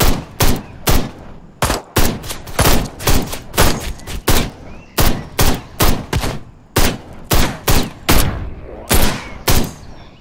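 Gunfire in Ride to Hell: Retribution, loud close shots fired in a steady string of about twenty sharp cracks spaced roughly half a second apart, alone without talk.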